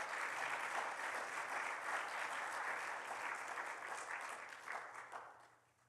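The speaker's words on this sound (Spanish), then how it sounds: "¿Le damos un aplauso al Señor?" Congregation applause at a Spanish-language church service, a steady broad clapping that sustains for several seconds and then fades out toward the end, with no talk over it.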